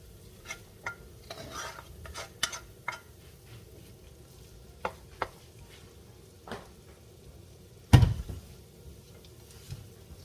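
A spoon scrapes and knocks against bowls as cooked Nigerian egusi is moved into a bigger bowl, giving scattered clinks and scrapes, one sharp louder clatter near the end, over a quiet sizzling background.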